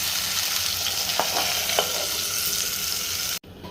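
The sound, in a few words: tomato pieces frying and being stirred for cauliflower curry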